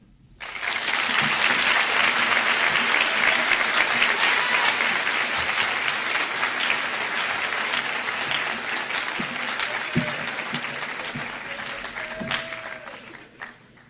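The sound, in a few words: audience applause after an oratorical speech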